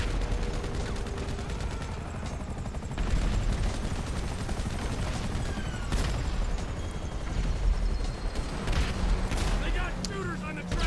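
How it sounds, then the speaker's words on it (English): Dense gunfire and explosions from GTA 5, with steady shooting and several heavy booms over a constant background din, mixed under an excited voice talking throughout. "They got shooters on the track. Explosions!"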